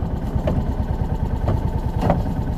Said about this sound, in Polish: dajemy gazu i przekładnia Vario jedzie już tam do przodu lub do tyłu